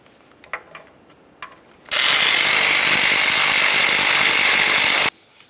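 An oil pan nut on a 1994-2002 Dodge Ram 2500 being run tight with a power ratchet, a few faint clicks, then a loud, steady mechanical buzz for about three seconds that stops abruptly, close.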